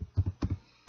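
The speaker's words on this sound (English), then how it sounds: "so to run I type ruby" A computer keyboard is tapped to type a Ruby command in a terminal, giving a few quiet, close keystrokes in small clustered bursts.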